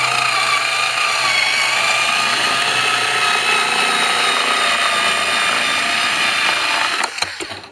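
A Skil power cutter runs with a loud, steady high-pitched whine as it slices through plastic blister pack, cutting out abruptly near the end with a couple of clicks.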